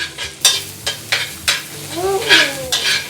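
Homemade garlic sauce stir-fried in a pan over medium heat, ahead of adding broccoli: a steady sizzle underneath repeated sharp scraping strokes of a utensil against the pan, at a loose, even rhythm, close and clear.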